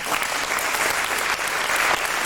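An audience claps at a Hindi stage play (toneel) in Den Haag. The applause is dense, steady and sustained from many hands throughout, with no voices on top.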